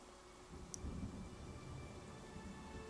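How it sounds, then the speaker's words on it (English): Steady soft rain hiss with a faint patter in the video game Pathfinder: Kingmaker, low and even throughout, no voices. "Oh wow, and it's raining."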